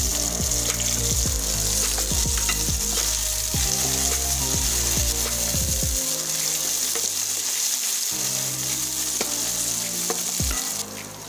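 Tomato frying in hot oil for drumstick masala curry, a loud, continuous close sizzle with intermittent stirring clatter and scrapes against the pan throughout.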